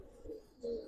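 Black silver-line Giribaz jumping pigeons from Old Dhaka give two short, soft coos, the second stronger, near and fairly quiet.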